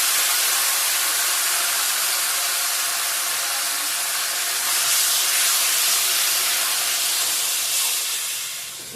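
Spices tempering in hot oil for a marinated chicken curry: a loud, steady, broad hiss of spluttering oil, close and continuous throughout, easing slightly near the end, no talk.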